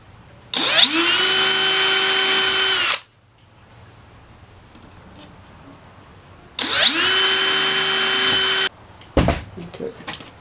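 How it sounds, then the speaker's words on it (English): A power drill bores holes in a sensor bracket being fabricated for a Sonex aircraft: two sustained, loud whining runs of a few seconds each, separated by a quiet pause, followed by a short clatter of handling. "We'll go ahead and drill those now."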